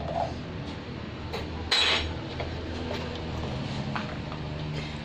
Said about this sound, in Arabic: غادي نخلط هاد المكونات